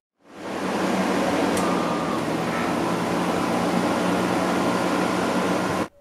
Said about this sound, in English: an air conditioner would be silly to try to run on this inverter